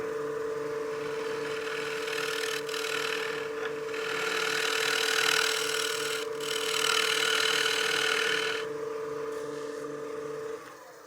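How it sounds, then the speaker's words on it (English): A wooden cake stand spinning on a lathe while a tool shear scrapes its surface: a steady motor hum under a continuous rasping scrape that swells and fades over several passes. "I will be shear scraping this a little bit more"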